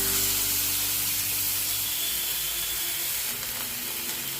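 Onion paste sizzling in a hot pan for katla fish curry, a steady broadband hiss holding at a constant level throughout, close and moderately loud with no talk over it.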